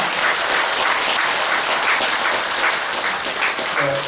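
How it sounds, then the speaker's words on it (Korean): Members of a church congregation at Yeongcheon Jeil Church clap together to encourage the children of the church school, producing steady, loud, sustained applause with no break. "다시 한번 우리 박수를 격려하겠습니다"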